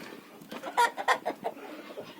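Village hens being fed kitchen scraps cluck nearby in a short burst of several sharp clucks over quiet rural background.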